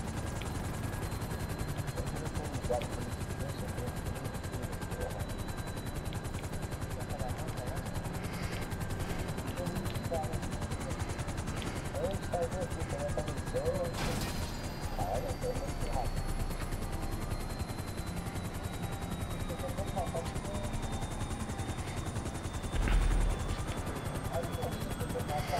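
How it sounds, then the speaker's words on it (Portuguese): In Grand Theft Auto V, a helicopter's continuous rotor drone runs throughout with scattered bursts of gunfire and a sharp crash-like impact midway, while players talk over the action. "quase, mas o helicóptero foi batendo"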